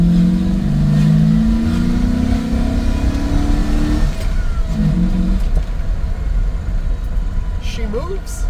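A truck, now fitted with something bigger than its old 6-cylinder engine, accelerates and revs hard while driving, loud and steady for about four seconds before easing into a rougher, lower rumble.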